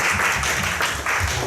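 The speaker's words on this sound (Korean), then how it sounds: "우리 박수 환영합니다." Brief burst of congregation applause welcoming young people to a church youth service, loud and continuous with a slight dip near the middle.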